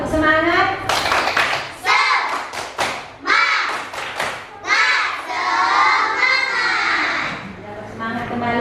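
A primary school class performs a rhythmic spirit clap, bursts of patterned clapping and thumping from many children alternating with loud group chanting voices, close and energetic.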